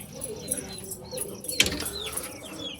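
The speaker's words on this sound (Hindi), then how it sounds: "जोड़ा देसी कबूतरों का है" A brief burst of desi pigeons' wings flapping close by, with faint cooing and rustling in a quiet enclosure.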